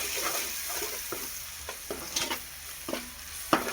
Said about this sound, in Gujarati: હવે થોડુંક ધાણા જીરું એને આપણે મિક્સ કરી લેવું.